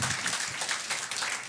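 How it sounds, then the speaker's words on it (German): Brief burst of audience applause at a live stand-up comedy show, a dense, even patter of clapping filling the room for about a second and a half. "danke für den Applaus"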